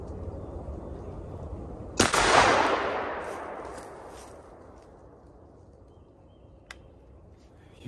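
A single loud gunshot cracks out while hunting squirrels in a state park, followed by a long rolling echo fading through the woods, with a faint distant click later and no talk.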